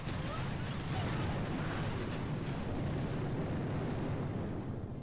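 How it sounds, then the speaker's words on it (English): Artillery barrage in the Boom Beach strategy game pounding enemy machine guns, a dense continuous rumble of overlapping explosions and crackling bursts, loud and sustained throughout with no pauses. "We'll just barrage down these machine guns."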